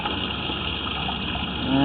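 Water rushes steadily through a sewer line clogged with roots, a constant broadband gushing that grows slightly louder at the end, with a faint tonal hum near the close.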